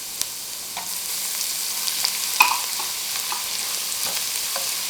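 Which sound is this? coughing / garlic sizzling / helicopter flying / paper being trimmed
garlic sizzling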